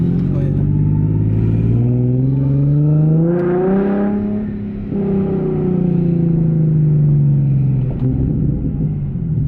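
A Nismo 370Z fitted with a full Tomei exhaust accelerates, its engine note rising steadily in a loud, close drone, easing briefly mid-pull, then climbing again.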